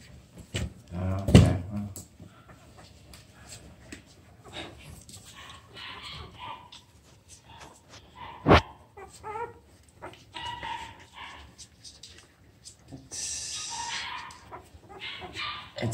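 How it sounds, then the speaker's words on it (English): A litter of puppies whimpers and yips during playtime, with scattered high cries and short yaps over a low background, a couple of sharp knocks, and a person talking intermittently. "You can hear the retro litter. They're going nuts right now because it's playtime."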